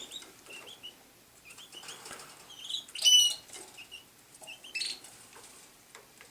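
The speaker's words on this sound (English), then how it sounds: "Hear that little cheep, cheep, cheep." A small canary cheeps faintly several times indoors, with short high chirps scattered among soft rustling and fluttering from the cage.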